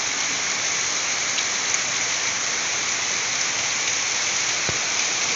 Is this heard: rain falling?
yes